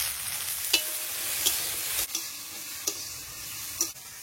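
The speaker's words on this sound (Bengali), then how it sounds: "ভেন্ডিটা একটু ভেজে নিয়েছি" Okra sizzling in hot oil in a pan with cumin and garlic, a constant crackling fry punctuated by several sharp scrapes and knocks of a spoon stirring at irregular intervals.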